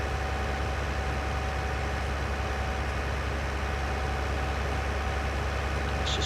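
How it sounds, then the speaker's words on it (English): Idling engine of a modded Renault tractor in a farming video game, a steady, thin and unthrottled drone that holds level for several seconds with no one talking over it. "this biggest criticism I've probably got on this tractor is the engine note."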